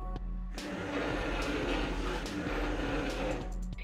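WitBlox follow-me robot kit driving its small motors toward a hand: a close buzzing whine of toy gear motors with clicks and rattles, running steadily for a few seconds.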